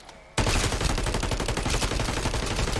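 Rapid gunfire rips out at a zombie in Call of Duty MW3 Zombies, a dense burst of loud shots starting abruptly after a brief quiet lead-in and continuing steadily to the end.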